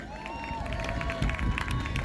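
Fans in the crowd at a fancy dress horse show cheer and chatter in a dense, steady roar, with a voice sounding over the crowd noise.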